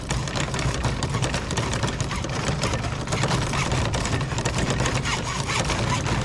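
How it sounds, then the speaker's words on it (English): A dull saw cuts through a plastic car bumper during a repair, giving a steady, dense rasping buzz that runs unbroken and fairly loud the whole time, with no talking. "This plastic cuts really easily. This saw is really dull."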